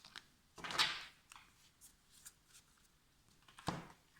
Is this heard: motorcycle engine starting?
no